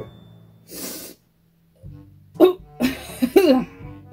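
An attempted sneeze that comes out as strained, sputtering bursts of breath and voice, a short hiss early, then several close, loud gasping snorts in quick succession.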